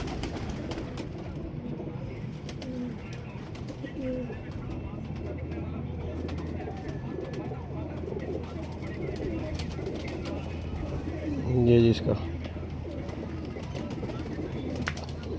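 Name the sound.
pigeons cooing, male with female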